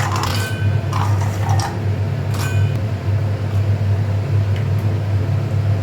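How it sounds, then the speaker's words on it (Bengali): An electric mixer grinder grinds almonds, cashews, pistachios and cardamom pods into a coarse powder. Its motor gives a loud, steady drone throughout, with light rattling and clicking of the nuts inside the jar. "এই যে মিক্সার মেশিনে দিয়ে দিচ্ছি।"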